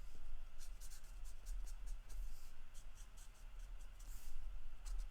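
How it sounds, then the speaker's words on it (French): Olive green colouring pencil rubbed back and forth across paper on a scrapbooking page, a soft, steady, close scratching in quick strokes with no pauses and no talking. "Donc, tout simplement, on va venir colorier."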